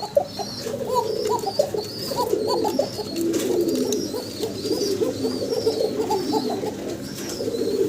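Several pigeons coo repeatedly in soft, throaty rolls at a pigeon seller's, overlapping at close range with faint chirps in the background.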